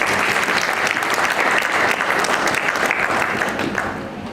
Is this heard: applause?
yes